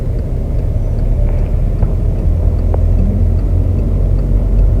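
A car engine holds steady at about 2000 rpm while a learner driver is behind the wheel. It gives a loud, continuous low rumble with road noise inside the cabin and no talking over it.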